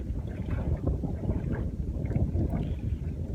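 Steady low rumble of a small boat motor running, with wind buffeting the microphone and faint water sounds.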